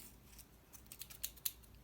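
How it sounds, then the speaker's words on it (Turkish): Scissors snip paper for a caterpillar-on-a-leaf craft, giving a few faint, quick crisp cuts that get slightly sharper toward the end against a quiet room hiss. "Makası ver artık bana."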